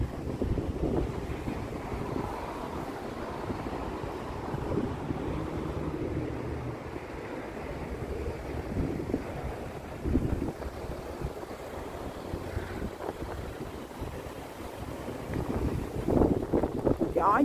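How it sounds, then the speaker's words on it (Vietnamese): Strong wind blows outdoors near Mayflower Seafood Restaurant on the way to a wedding, a steady rushing roar buffeting the microphone throughout, with faint voices mixed in. "Gió dữ lắm"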